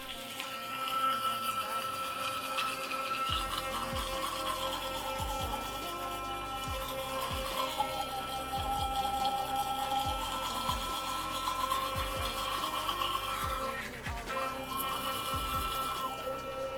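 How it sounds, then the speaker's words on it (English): A rose gold Burst sonic electric toothbrush runs with a steady, quiet buzzing hum, then briefly pauses for its pulse signal before continuing, under a soft background of knocks and rustle. "You will hear a pulse. It'll let you know when to switch over to the other side of your mouth."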